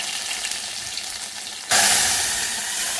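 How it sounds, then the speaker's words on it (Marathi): Cumin and mustard seeds tempering in hot oil for dal, a faint crackle that jumps abruptly into a loud, dense sizzle partway through, close-up and steady with no voices. "थोडंसं जिरे, मोहरी छान तडतडायला लागलेली आहे"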